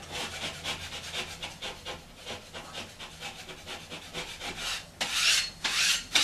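Joint compound being wiped across a water-damaged ceiling repair: repeated close, rhythmic scraping strokes of a blade, raspy and even, growing louder and harsher near the end, with no talk.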